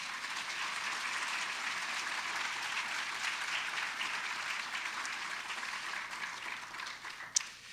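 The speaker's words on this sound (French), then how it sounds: "Je vous demande d'applaudir, s'il vous plaît," Audience at a university graduation ceremony applauds in a steady, dense wash of clapping that holds evenly throughout, with one sharp, louder clap standing out just before it ends.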